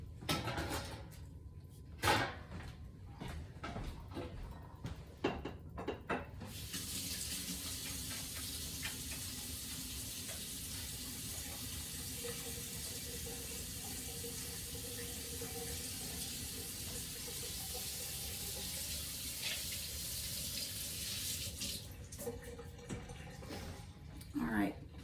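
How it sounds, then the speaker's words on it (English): Tap water runs steadily into a sink as hands are washed in a home kitchen during beef bourguignon prep, a continuous close hiss lasting about twenty seconds after some brief clatter and movement. "Just wash my hands."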